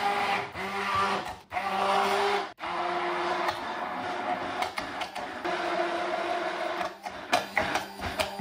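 An electric grinder whirs steadily as it blends homemade sushi sauce ingredients with a little lemon juice, the motor drone continuous and close, broken by two brief pauses near the start.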